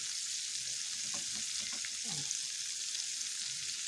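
Macaroni frying undisturbed in a pan until it crisps and browns underneath, a steady soft sizzle with faint stirring clicks throughout, fairly close and without talk.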